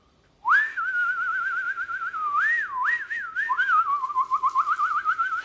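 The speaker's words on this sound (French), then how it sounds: "même les outils sifflotent" Cheerful tuneful whistling in a French DIY retailer advertisement, a single clear whistled melody with warbles and trills, close and alone for several seconds.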